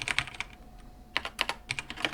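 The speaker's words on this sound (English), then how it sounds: "I'm going to select it all and start typing." Keystrokes clatter on a computer keyboard in quick bursts, with two brief pauses between the runs. The typing is close and fairly quiet, and nobody speaks.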